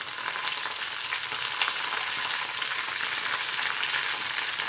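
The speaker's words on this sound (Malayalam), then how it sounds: "കടുകിട്ട് പൊട്ടിച്ചിട്ട് ചുവന്നുള്ളി ചെറുതായിട്ട് അരിഞ്ഞത് നന്നായിട്ട് ഇതേ മൂപ്പിച്ചെടുത്തിട്ടുണ്ട്" Mustard seeds, chopped shallots, dried red chillies and curry leaves sizzle hard in hot oil as a tempering for a Kerala coconut milk fish curry, a steady close crackling fry with no talk.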